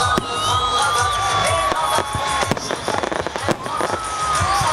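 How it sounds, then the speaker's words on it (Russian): A festive fireworks salute at an evening celebration, with sharp bangs and crackling bursts scattered through the clip and a crowd cheering and whooping beneath them. "Кульминацией вечера стал праздничный салют."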